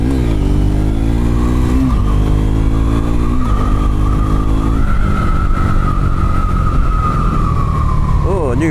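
A motorcycle rides over rough new gravel on a rainy road, its engine droning loud and close with rising and falling revs under a steady wash of wind and tyre noise; a rider talks over it.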